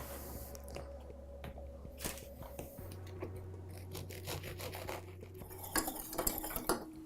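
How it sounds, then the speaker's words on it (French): A teaspoon scrapes the soft, undercooked inside of a baked pastry shell, giving repeated small metallic scrapes and scratchy rubbing strokes against the crust, close and fairly quiet, with no talking over it. "Juste avec une petite cuillère, une parisienne ou une cuillère à thé. Juste gratter l'intérieur."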